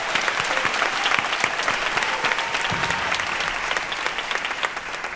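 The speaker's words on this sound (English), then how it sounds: "Please give them a round of applause." A crowd at a high school graduation ceremony claps for staff, teachers and graduates, a dense, steady applause with some individual claps standing out and holding level for several seconds.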